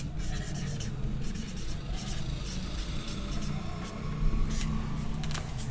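Chalk or a marker scratches and taps across a classroom board in short strokes for a maths lesson, sitting over a steady low hum of room noise.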